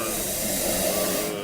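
Steam locomotive with steam up releases a loud, continuous broadband hiss as the throttle opens, steady throughout and dropping off sharply at the very end.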